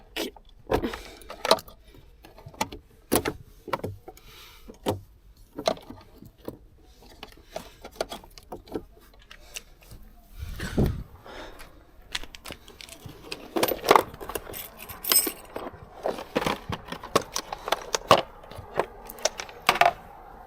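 A 13 mm wrench loosening the battery hold-down nut on a Mercedes-Benz W169 A-Class, heard as close, irregular metallic clicks, taps and ratcheting scrapes spread across the stretch with occasional louder knocks.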